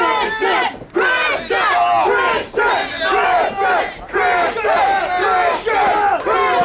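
A loud pro wrestling arena crowd chants and cheers for Christian in rhythmic, repeated bursts of massed voices, briefly dipping between phrases.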